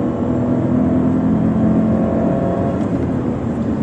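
A 2020 Dacia Duster 1.0 TCe LPG engine accelerates hard with a steady, rising turbo whine and a continuous loud roar throughout.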